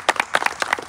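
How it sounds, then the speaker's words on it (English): Wedding guests clap during a ceremony rehearsal, a short burst of several distinct hand claps in loose rhythm, fairly close and moderately loud. "Clap them now, man."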